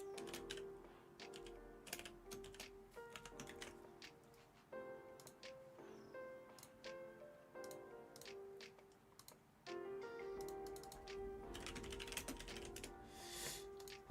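Rapid, uneven keystrokes on a computer keyboard clatter steadily throughout, sitting over a busy background of game music with bright tonal notes and occasional louder bursts.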